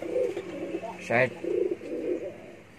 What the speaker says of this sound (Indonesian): Seperti yang Anda saksikan ini, saya ternak merpati sukses.